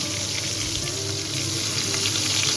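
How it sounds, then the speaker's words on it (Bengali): Hot oil hisses and crackles steadily as fish fries, a continuous close sizzle without voices. "এদিকে তেলটাও গরম হয়ে গেছে, এই জন্য মাছটা দিয়ে দিচ্ছি ভাজার জন্য"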